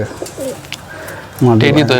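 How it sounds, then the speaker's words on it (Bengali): A domestic high-flying pigeon gives soft repeated coos, close and clear, with a louder throaty burst near the end and a voice speaking alongside. "হ্যাঁ টেডি পায়রাই"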